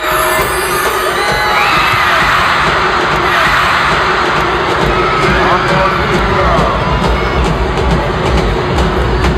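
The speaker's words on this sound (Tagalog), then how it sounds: "Ngunit todo pa rin ang hiyawan ng fans." Fans cheering and screaming at a celebrity basketball shooting moment, a loud, continuous wall of high-pitched crowd shouts and shrieks filling the space throughout, with voices mixed into the roar.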